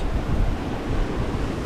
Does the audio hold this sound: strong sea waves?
yes